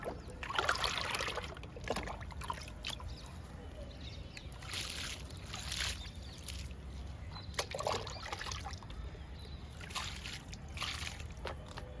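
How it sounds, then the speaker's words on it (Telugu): Liquid fertilizer poured onto chrysanthemum plants in a home garden, soft intermittent trickling and splashing in several short bursts over a steady low background hum, fairly faint and close. "ఇంకా లిక్విడ్ ఇద్దాము చామంతి మొక్కలకు కూడా"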